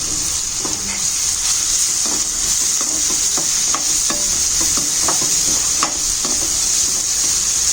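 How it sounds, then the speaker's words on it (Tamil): Chopped onion sautéing in hot oil for paneer rolls, a steady loud sizzle with scattered scraping stirs throughout, no talk. "ஃபர்ஸ்ட் வெங்காயத்தை போட்டுடுறேன்"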